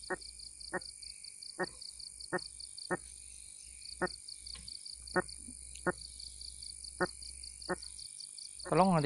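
A croaking fish, a frog-like catch pulled in while fishing, gives a slow regular series of sharp croaking pulses, about a dozen evenly spaced, close and fairly faint over a steady high hum, with a louder burst at the end.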